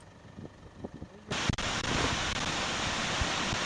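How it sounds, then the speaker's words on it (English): Seljalandsfoss waterfall in Iceland roars as a steady, loud broadband wash that kicks in abruptly partway through and continues unbroken, after a quieter start with faint rustling. "This waterfall allows you to walk behind."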